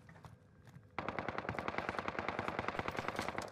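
Rapid automatic gunfire in a video game bursts in after a quiet opening, a dense, fast stream of sharp shots that stays loud and steady to the end, with no talk heard.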